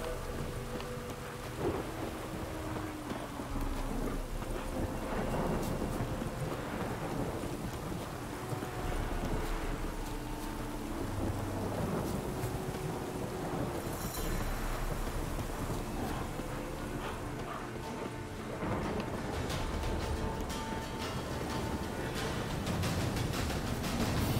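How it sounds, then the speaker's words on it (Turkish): A thunderstorm in the video game Witcher 3 brings steady heavy rain with rolling rumbles of thunder, continuous and fairly loud throughout. "Yağmurlu fırtınalı bir gün."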